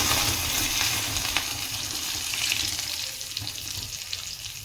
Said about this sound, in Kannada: ಈಗ ಇದು ಚಟಪಟ ಅಂತ ಇದೆ ಅಲ್ಲ